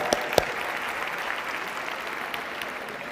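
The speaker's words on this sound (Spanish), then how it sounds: "Damos el aplauso fuerte, por favor." Audience applause at a session close, a steady dense wash of many hands clapping, a couple of sharp louder claps near the start, moderately distant and sustained.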